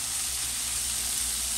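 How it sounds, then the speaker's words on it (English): Pan-seared rockfish simmering in a pan gives off a steady, even sizzle and hiss, close and constant with no talk. "I'm just gonna let those simmer for a little bit"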